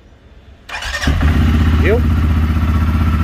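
A 2020 Can-Am CForce 520L quad ATV cranks and fires up, then settles into a steady, even idle close by, with someone speaking briefly.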